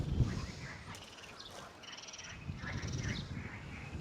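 Frogs croak at the ancient city of Letoon in a small area full of them, with a repeated chorus of close calls over a low background rumble.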